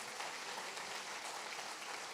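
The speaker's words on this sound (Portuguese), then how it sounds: "Você pode aplaudir o Senhor por essa palavra?" Applause from a church congregation rises as a steady, dense wash of clapping that stays even in level throughout, heard from a distance with no voices standing out.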